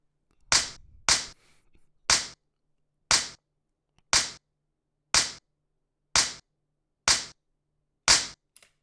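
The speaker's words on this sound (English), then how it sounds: "What if I have Alice just start firing?" A video game character fires ranged attacks: nine sharp, snappy shots ring out at an even pace of about one per second, with silence between them.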